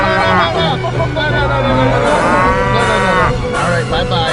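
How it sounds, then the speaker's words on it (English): Several cows at the Lazy 5 Ranch low in drawn-out, overlapping moos near at hand, loud and continuous, while voices talk beneath and around the calls. "Cow's still coming."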